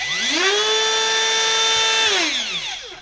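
Makita DCO180Z cordless drywall cutout tool running with no workpiece, a high spinning whine that rises quickly in pitch, holds steady for about two seconds, then winds down as it is switched off.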